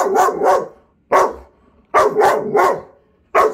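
Sharp, close barking from a female German Shepherd comes in short bursts: a quick double bark, a lone bark, then a rapid three-bark volley and one final bark, with brief silences between.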